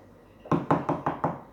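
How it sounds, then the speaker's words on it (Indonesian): A door rapped five times in a quick, steady series during a Sunday school sermon, each knock sharp and near, clear over a hushed background with no talking. "Ketok pintu."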